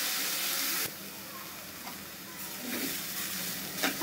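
Radish greens sizzle and fry in a pan as they are stirred and turned, a steady hissing crackle with soft scraping strokes, fairly close and continuous.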